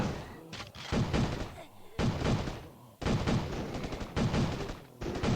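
Gunfire in the mobile game State of Survival comes in rapid, loud, machine-gun-like bursts, several volleys separated by short gaps.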